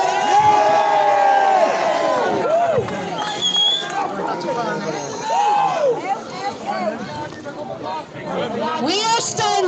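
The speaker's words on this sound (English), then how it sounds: "Everyone give a cheer to the mongrels!" A protest crowd in Cork cheers and shouts together outdoors, a loud, dense wash of many voices with rising whoops and calls that swell and ebb without pause across the whole stretch.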